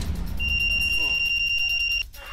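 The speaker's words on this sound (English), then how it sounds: "Its distress siren catches the attention of passers-by" A My Hero personal SOS alarm device by OptiSafe emits a steady, piercing high-pitched electronic siren tone lasting under two seconds over a busy background, then cuts off abruptly.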